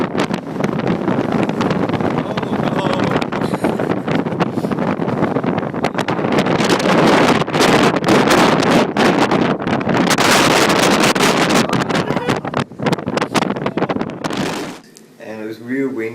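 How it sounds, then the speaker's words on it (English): Strong wind at Tacking Point lighthouse buffets the microphone in a loud, continuous roaring rumble that surges and eases for about fifteen seconds before dropping away near the end. "It was a really windy day and it was blowing so hard you could almost like lean forward at a 45-degree angle to the wind."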